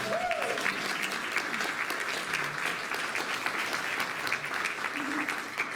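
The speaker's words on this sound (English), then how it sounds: "So, now, applaud for all." Applause from a seated audience at a heritage center's annual meeting, steady moderate clapping with faint background voices mixed in.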